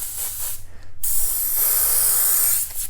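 A Master S62 siphon-fed dual-action airbrush sprays paint with a close, steady hiss of air that stops briefly and then resumes as a long, even spray, with no talk.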